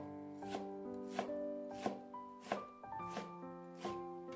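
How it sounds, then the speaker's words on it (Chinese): A knife chops squeezed cabbage on a cutting board in steady, evenly spaced strikes, about one every two-thirds of a second, close up, with soft background music. "用刀给它切碎"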